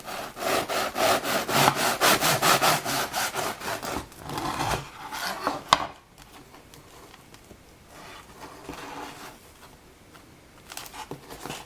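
A knife saws through a soft, fluffy-crumbed sourdough ciabatta loaf in rapid, rhythmic back-and-forth strokes for about four seconds, loud and close, then the scraping fades to quieter handling.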